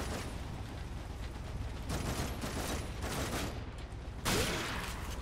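Gunfire in the video game The Darkness 2, a dense, continuous rattle of shots and mechanical clatter running through the whole stretch, with a louder burst near the end.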